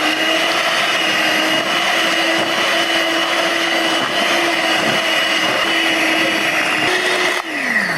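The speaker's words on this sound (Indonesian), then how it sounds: "Langsung saya mixer ya." A steady electric mixer motor whirs continuously at close range mixing donut dough, its pitch dipping briefly near the end as it works through the thick dough.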